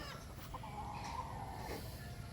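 Boston Black gamefowl chickens cluck faintly at a breeder's farm, a few soft clucks over a quiet background.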